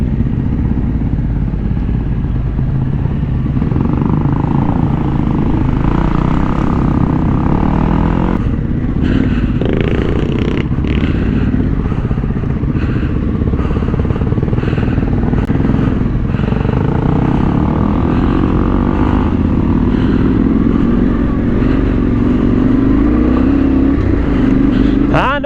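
A trail motorcycle engine drones loud and close throughout a climb up a dry, rough bank, revving under load with clattering from the bike and a rider's voice talking over it.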